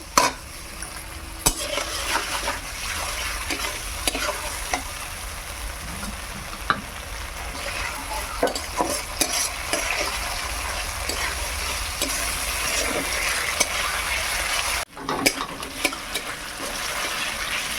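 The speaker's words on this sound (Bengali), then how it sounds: "এবার আমি আদা রসুন বাটা দিয়ে দিলাম।" Ginger-garlic paste frying in oil for jackfruit-prawn curry, stirred in a pan with a spoon: a close, even sizzle under repeated scraping strokes and light clinks, with one brief dip before the frying resumes.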